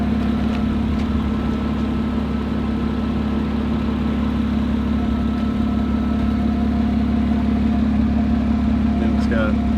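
A Lotus Evora 400 sports car engine idles in a steady, continuous low rumble that holds even throughout, close and fairly loud, with a constant drone and no revving.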